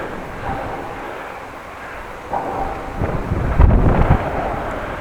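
Steady wind rushing and buffeting against the microphone, swelling into louder gusts toward the end, with no voices.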